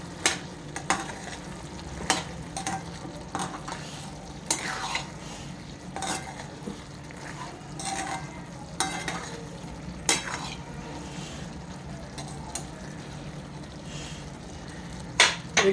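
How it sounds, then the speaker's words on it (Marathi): Brinjal bhaji frying in a pan is stirred with a utensil, rhythmic scrapes and clinks against the pan recurring every second or so over a soft, steady sizzle. "तर थोडंसं हलवून घेऊया आपण आता हे"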